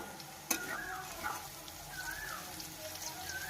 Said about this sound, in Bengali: কিছুক্ষণ ভেজে নিতে হবে যতক্ষণ না পেঁয়াজটা লাল হচ্ছে।